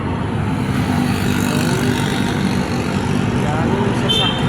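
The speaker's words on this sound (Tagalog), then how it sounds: "Daming sasakyan guys." Steady wash of road traffic with many cars, trucks and motorcycles passing close by on a busy morning street, a continuous loud engine-and-tire rumble with no breaks.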